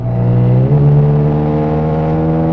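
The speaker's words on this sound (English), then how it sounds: "to really get a bit of a grunt out of the exhaust system, you've got to put your foot down" A Ferrari California 30 V8 engine idles with a deep, throaty exhaust note, then rises in pitch as it is revved once, loud and close.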